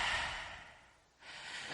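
A voice imitates breathing with breathy, noisy exhalations: a long loud breath that fades out, a short pause, then a second breath swelling up again, close and alone with no words.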